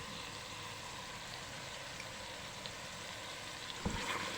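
Meat frying in spices for gosht tahari, a quiet, steady sizzle with fine crackle and a brief stirring knock near the end.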